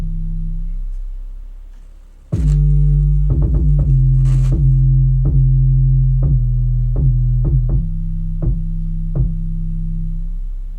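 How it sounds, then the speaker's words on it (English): Bachata-style 808 bass notes boom loud and sustained through a beat, with a deep hum at the start followed by a run of repeated plucked, percussive hits over the held bass. "the 808s aren't like really like trap-ish, but they are more bachata than anything else"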